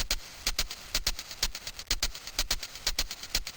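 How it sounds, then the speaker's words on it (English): A lo-fi hi-hat pattern programmed in FL Studio for a track: a steady run of crisp, bright, closely spaced ticks with occasional soft low thumps beneath, loud and close, with no voice. "The hi-hats like this."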